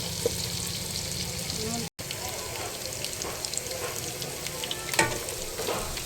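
Meat with onion and garlic frying in a pan, a steady close sizzle and crackle running throughout with occasional stirring clatter and a brief dropout near the start; a voice may be faintly present.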